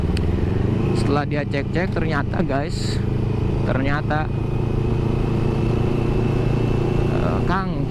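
A used Kawasaki Ninja 250FI motorcycle engine runs steadily close by, a constant low drone beneath a person talking over it.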